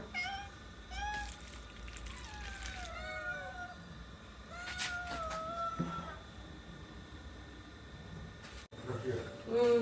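Several short meows, some rising and falling, repeat close by over a low background hum, with a couple of longer cries in between.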